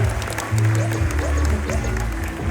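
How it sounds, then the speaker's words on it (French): An audience claps for a droid introduced on its first mission in a Star Wars Mission Droïdes BDX scene, giving a dense, steady patter of clapping at moderate distance with voices mixed underneath. "Un tonnerre d'applaudissements."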